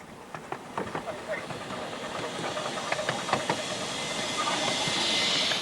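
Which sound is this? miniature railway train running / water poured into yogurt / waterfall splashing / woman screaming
miniature railway train running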